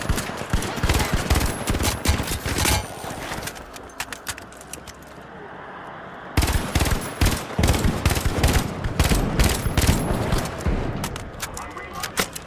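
Rapid bursts of video game gunfire crackle loudly through most of the stretch, pausing briefly in the middle before resuming in dense volleys, with a player talking over it.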